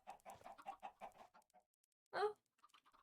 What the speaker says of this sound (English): They look identical to Overworld chickens.